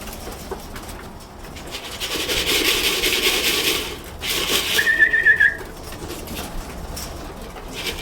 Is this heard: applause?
no